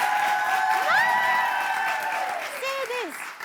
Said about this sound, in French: Que les femmes applaudissent pour elles-mêmes.